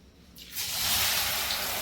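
Carrots dropped into hot oil for a homemade carrot skin oil set off a sudden loud hiss that swells within a moment and holds as a steady, bright sizzle with no talk.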